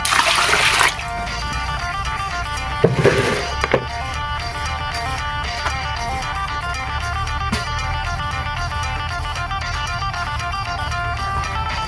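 Salted mustard greens rinsed by hand in a basin of water, with splashes and sloshing at the start, then a steady trickle and light dribbling throughout.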